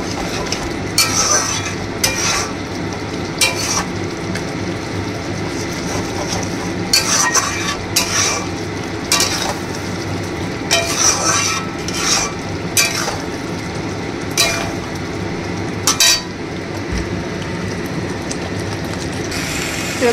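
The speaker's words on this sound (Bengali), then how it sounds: "মশলাটা অলমোস্ট কষে গেছে, আর একটু কষাবো আমি" Tomato spice masala frying and being stirred for a fish curry with brinjal and potato, a loud continuous sizzle with repeated sharp spoon scrapes against the pan, no talk.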